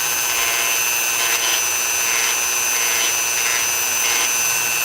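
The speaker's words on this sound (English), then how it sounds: "This way I could do a more accurate grind away." A power tool grinds material away from a Starboard 95 cm hydrofoil mast during a crack repair, making a loud, continuous whine with a few slight surges in intensity and no talking.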